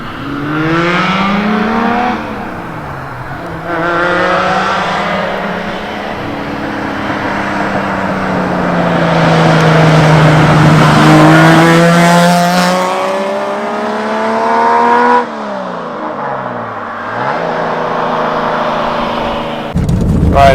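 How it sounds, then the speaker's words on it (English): A 1970 Lamborghini Miura engine starts and pulls away, loud and close, rising and falling through several revving gear changes with a brief lull before climbing again. "let's fire up the Miura."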